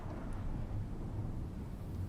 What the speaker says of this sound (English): It's a lot of lightning out there.